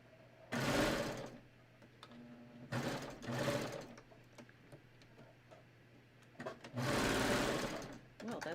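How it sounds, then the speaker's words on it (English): A sewing machine stitches a side seam on a raglan top in three short close bursts of rapid mechanical whirring, separated by quiet pauses. "So let me just sew my side seams here."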